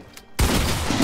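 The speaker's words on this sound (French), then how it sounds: "Quoi, il me met des balles?" Gunfire in the Fortnite video game: after a brief near-silent moment, a loud burst of rapid shots erupts and roars on without a break for under a second.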